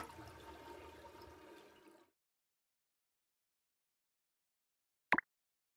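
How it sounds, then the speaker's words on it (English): An automatic toilet in a train station bathroom flushes with a short rushing whoosh that stops abruptly after about two seconds. Silence follows, then a single sharp click. "Ooh, it flushed on its own."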